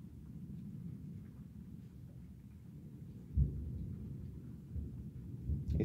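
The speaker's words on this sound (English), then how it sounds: "I feel like the lightning bolts that we actually see take forever to make noise." Thunder rolls after a lightning strike during a severe storm, a long low distant rumble with a sharper crack partway through, then continued grumbling, no voices present.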